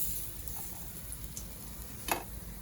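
Fish frying in a pan gives a steady, low hiss and crackle of hot oil throughout, with one brief sharper spatter near the end; no voices.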